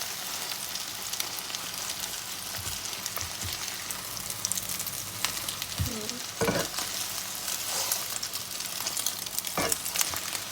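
Eggs fry in hot oil in a pan for Thai sour curry, a loud, dense crackling sizzle that runs the whole time with occasional sharper pops and spatters, close up and without speech.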